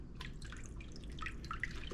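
Brine drips and trickles steadily from a turkey lifted out of its brine, a soft, close run of small watery patters with no talking.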